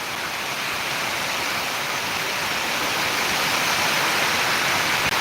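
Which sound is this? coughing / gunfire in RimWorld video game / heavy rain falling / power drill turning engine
heavy rain falling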